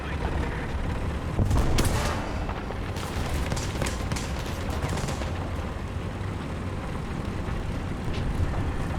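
Tank cannon fire in War Thunder, with a heavy close blast near the two-second mark amid a steady roar of battle and further booms, loud and continuous throughout.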